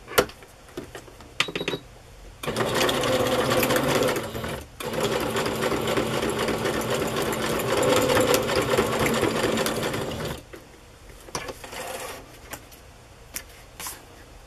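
Sewing machine stitching a snippet of lace and red polka dot fabric onto a circus-themed craft journal, a steady close whirring run of about eight seconds between short bursts and quiet handling.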